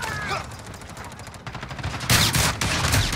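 Gunfire in the shooter game Call of Duty: Modern Warfare, bursts of rapid shots with a louder, denser volley in the second half, set against game ambience and possible faint speech.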